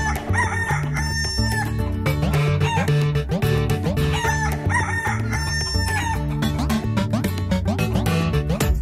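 A fowl clucks and crows amid loud, rhythmic music from an animated Marathi children's song about a long-tailed hen, with the bird calls repeating steadily throughout.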